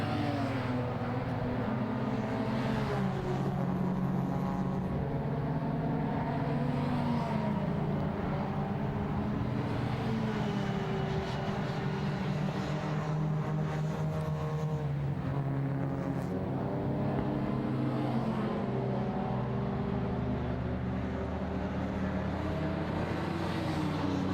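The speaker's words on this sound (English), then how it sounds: "There's one of the VW Golfs, that's number 42], Duncan Leftley, ex-Alfa Romeo racer." Racing cars, including Jaguar XJ40s and VW Golfs, circulate at Silverstone circuit during qualifying. Their engines form a continuous loud drone that rises and falls as cars pass, with no pause across the whole stretch.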